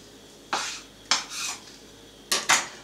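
A knife cutting ham scrapes and clinks against a plate in four short strokes, in two quick pairs with a pause between them.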